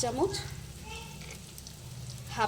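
Spice paste for mutton curry fries with salt over low heat, giving a soft, steady sizzle with faint stirring. A voice sounds briefly over it at the start and end.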